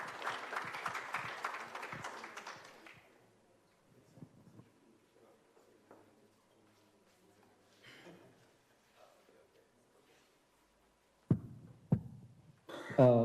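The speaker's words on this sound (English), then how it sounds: "So another round of applause as we now begin our presentation." Audience applause at an African social entrepreneurship conference, a dense burst of clapping that fills the hall for about three seconds and then dies away, leaving a quiet room with scattered faint shuffles and a few sharp knocks near the end.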